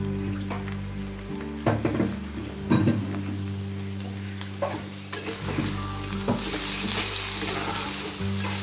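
Mustard and poppy seed paste frying in a pan for a Bengali vegetable dish, a continuous sizzle under a low steady hum, with several scraping stirs and a brief louder hiss as the paste goes in.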